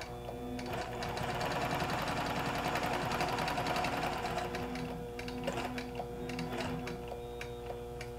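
A QBOT Version 3 quilting machine stitches lines steadily, its needle mechanism ticking in a fast, even rhythm with a constant motor hum, close and unbroken throughout.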